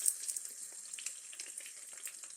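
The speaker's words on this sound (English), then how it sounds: "I'm frying the eggs in all of that bacon grease that was left from frying this bacon." Eggs fry in leftover bacon grease, giving a steady, soft crackling sizzle with faint pops throughout, close and quiet with no talk.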